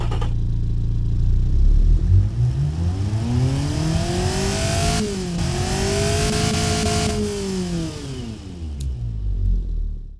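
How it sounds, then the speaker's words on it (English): In a video game, the CNG four-cylinder engine of a 2007 Fiat Multipla revs up and holds a high, buzzing pitch, then eases back down. The engine sound is loud and continuous, with no voices over it. "let's give you a listen to what this CNG engine sounds like right now."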